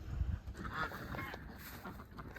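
Geese on a farm honk several times in quick succession, moderately close, with a faint outdoor background.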